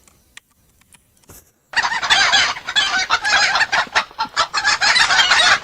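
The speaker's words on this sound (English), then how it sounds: "Every time the state changes, we're going to play a chicken sound." Loud, busy chicken clucking from a Godot video game, a dense burst of squawks and clucks that starts abruptly after a near-silent opening and carries on continuously with no talk.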